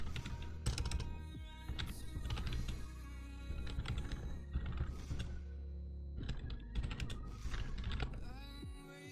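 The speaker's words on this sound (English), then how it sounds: "So let's type that in here." Someone types on a computer keyboard in quick clustered bursts of key presses, close and fairly quiet, with short pauses between runs of keystrokes.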